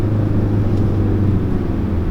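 A 2017 Ford Focus RS engine drops a gear, settling into a steady, loud low-pitched rumble heard from inside the car, with no talk over it.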